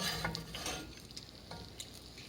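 An egg chapati frying in a pan makes a soft, continuous sizzle, with light scraping and stirring noises over it, heard close and without speech.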